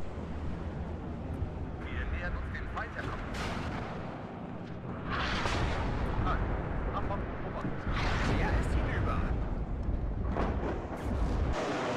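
MARS rocket artillery salvo in a tank video game, booming launches and rumbling bursts rising over a dense, continuous battlefield din, with voices talking underneath.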